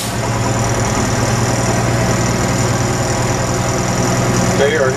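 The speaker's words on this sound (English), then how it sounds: "So I'm going to start the engine, increase my RPMs." A truck engine during a CDL pre-trip inspection, idling with a steady low hum and vibration that holds at an even level throughout, with no clear start or rev rise.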